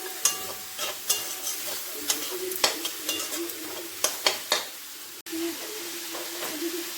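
Vegetables for a chicken momo soup fry in a hot pan with vinegar added, a steady sizzle broken by repeated sharp scrapes and knocks of a spoon stirring, close and fairly loud, with a brief gap near the end.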